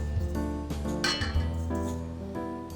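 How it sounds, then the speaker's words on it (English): Brown sugar tipped from a container into a stand mixer's metal bowl gives a few close clinks and light rattling knocks on the bowl, spread over a couple of seconds with no talking. "you're gonna take your brown sugar, put it into your mixer, okay? Just like what I'm doing right now."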